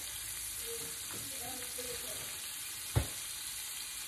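Shrimp for Cajun jambalaya pasta fry in a pan, giving a quiet, even sizzle with a couple of soft tonal squeaks and one sharp clack of a utensil near the end.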